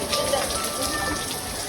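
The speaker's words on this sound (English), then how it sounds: "See the scene, the scenery, full of fog, and it is raining." Steady rain pours outdoors at the foggy Ganga Talao lake in Mauritius in the early morning, a dense, loud, close hiss of drops on surfaces throughout.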